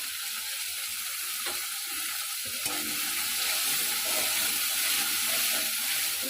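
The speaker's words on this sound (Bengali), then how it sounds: "তো বেশ কিছুক্ষণ কষিয়ে নিলাম" Cashew and poppy seed paste sautés in a pan for a vegetarian doi potol curry, giving a steady close sizzle and hiss with occasional faint scrapes, and no talking.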